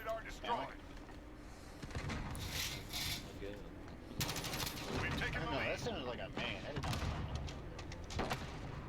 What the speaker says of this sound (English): Ooh, shotgun.